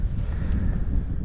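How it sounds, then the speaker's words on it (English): Strong wind buffets an outdoor microphone in Wales at the Red Bull Hardline mountain bike event, a steady, close low roar and rumble that fills the whole moment with no speech. "It's really windy at the minute."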